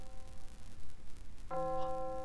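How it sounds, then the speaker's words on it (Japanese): Video-game school chime marking the end of class: a bright multi-tone bell enters about two-thirds through and sustains over steady background game noise, no talk. "同時に授業終了のチャイムが響き渡る。"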